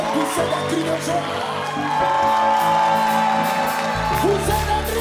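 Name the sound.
crowd shouting cries of joy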